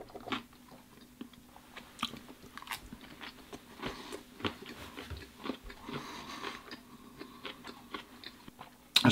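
Crunchy bites and steady mastication of a cucumber sushi roll, two days old and no longer fresh, close to the mic with repeated crisp crunches and no talking.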